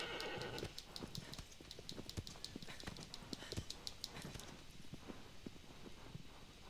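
A horse in the video game Shadow of the Colossus gallops with quick rhythmic hoofbeats and lets out a whinny near the start, the faint, thin clip-clop continuing steadily throughout.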